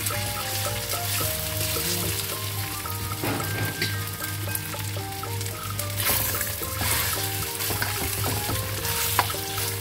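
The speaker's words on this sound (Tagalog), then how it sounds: "At iprito natin ang ating beef." Beef tenderloin frying in a pan, giving a continuous close sizzle with a steady hum underneath and faint tonal music, loud and unbroken throughout, with no speech.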